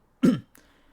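A single short, sharp cough, close and fairly loud, followed by a faint breathy trailing sound.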